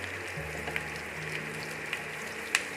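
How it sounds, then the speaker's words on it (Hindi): Cashews frying in a pan with golden onions, making a soft, continuous sizzle under a low hum, with a few faint clicks and one sharper tap near the end. "इसमें हम डाल देंगे काजू और अच्छे से हम इनको"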